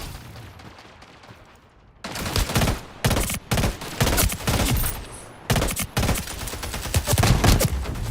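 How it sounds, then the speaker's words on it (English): Shotgun blasts in the Splitgate 2 video game, a cluster of loud, close booming shots coming in bursts after a quiet stretch, each with a sharp crack and rumbling tail. "that's a shotgun"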